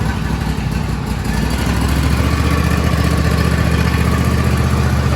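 A John Deere D130 lawn tractor's small engine runs at a steady idle after starting, a loud, close, evenly pulsing mechanical drone that carries throughout with no speech over it.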